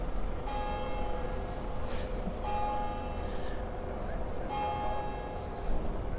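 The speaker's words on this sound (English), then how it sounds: "There we go, that's St Giles bells." Bells of St Giles' Cathedral in Edinburgh ringing out across the street near the Mercat Cross, a series of resonant, sustained bell strikes with long ringing tails over outdoor city background noise.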